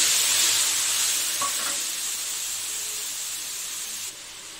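Ground spice paste mixed with water hits hot white oil in a pan for a potol curry, giving a loud, steady sizzle and hiss that eases slightly and then drops near the end, with no voices.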